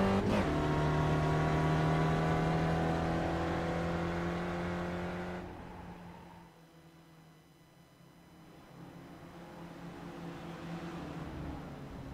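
A race car in the iRacing sim lapping Mosport, engine droning loud and steady with shifting pitch, then dropping away into a quieter passage before building again.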